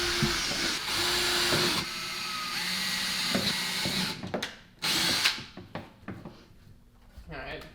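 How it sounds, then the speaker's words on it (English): A small power drill bores through a disc with a loud, continuous whine. The motor stops partway, then fires in a few short bursts while people talk. "See, now I'm gonna go with this little drill."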